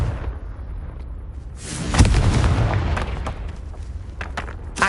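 Confringo blasting spell in Hogwarts Legacy on PS5: a sudden booming burst erupts mid-clip, followed by a rumbling, crackling tail and scattered impact pops.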